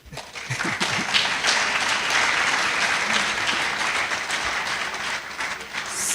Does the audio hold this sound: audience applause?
yes